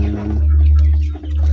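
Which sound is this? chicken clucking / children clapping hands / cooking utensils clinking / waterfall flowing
chicken clucking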